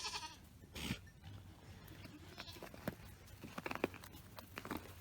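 A baby goat bleats a few times in short, thin calls over faint background rustle and patter on a farm, fairly distant and quiet.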